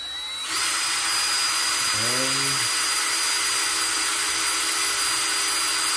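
A drill bores into a marked spot with a cup held beneath to catch water, whirring steadily and loudly from half a second onward, with a brief wobbling dip in pitch around two seconds.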